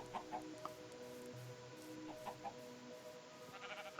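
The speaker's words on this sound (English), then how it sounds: "I hear chickens." Chickens cluck softly in the Minecraft video game, short repeated calls and tones scattered over a quiet ambient background.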